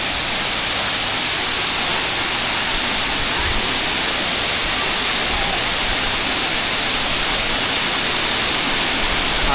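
Tatlong Falls in Bulusan, Sorsogon: a waterfall's steady, dense roar of falling water, close and loud, holding an even hiss the whole time with no voices.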